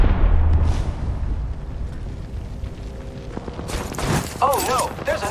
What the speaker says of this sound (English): Throwing Arc Star. Thermite grenade set.